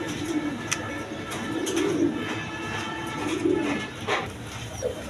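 Several coloured Rajgolla pigeons of tiger colouring coo repeatedly in soft, low rolling phrases, close by, over a steady background hiss, with occasional faint chirps.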